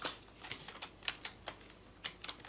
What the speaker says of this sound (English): I'm typing so much stuff only to plan it properly